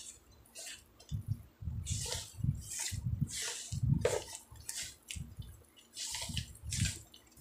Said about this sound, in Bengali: এবারে এই ওয়ালপট্টিটাকে জলের সঙ্গে মাখতে হবে ভালো করে